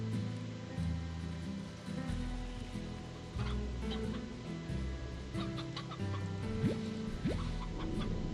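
Stony hens in the Slime Rancher video game cluck in a steady, busy chorus over soft game music, with occasional drips and small chirps mixed in.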